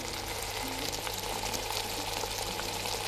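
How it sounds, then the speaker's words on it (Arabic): Tomato paste frying in a pan for Mexican rice, a continuous dense sizzle and crackle with no talk, steady and close throughout. "هلا حطينا رب البندوره"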